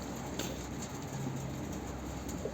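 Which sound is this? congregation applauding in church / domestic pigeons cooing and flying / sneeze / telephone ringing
domestic pigeons cooing and flying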